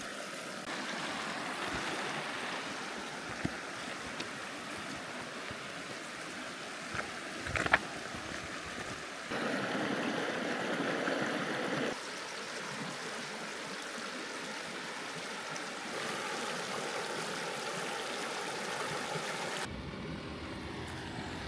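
River flowing beside a hiking trail in golden trout country, a continuous rushing wash of water that swells and eases over twenty seconds, with no voices.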